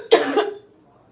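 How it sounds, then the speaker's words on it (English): A single harsh cough bursts out close to the microphone during a live stream, then gives way to near silence. "I did not know that this cough was going to rev up during this live."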